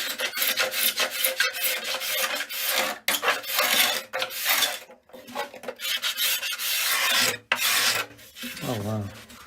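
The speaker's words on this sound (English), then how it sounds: "So this is how you scrape back bindings." A cabinet scraper rasps along the wooden bindings of a handmade acoustic guitar in quick, loud, repeated close strokes with brief pauses between passes.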